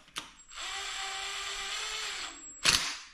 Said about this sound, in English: Throttle control, guys, with the drill